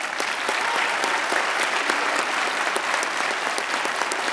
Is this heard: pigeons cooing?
no